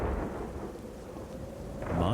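Heavy rain falls during a thunderstorm, with a low continuous rumble of thunder and steady downpour filling the background at moderate level, swelling slightly toward the end.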